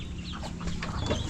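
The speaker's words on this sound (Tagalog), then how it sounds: "Tandang na yan," A rooster clucking close by in a backyard coop, quick low clucks and chatter from more than one bird over steady outdoor background noise.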